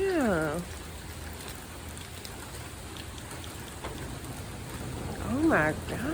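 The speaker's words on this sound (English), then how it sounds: "It is pouring down." Heavy rain pours outside with a dense, continuous hiss that swells slightly toward the end, while brief voices rise and fall over it at the start and near the finish.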